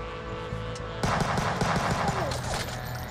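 Rapid bursts of automatic gunfire erupt and keep rattling in the pixel-art run-and-gun game Huntdown, loud and close over a constant electronic background.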